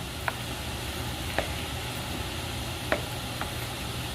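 Garlic, onions and spices fry in a pan with a steady, dense sizzle, while a few soft scrapes of stirring break through at irregular intervals.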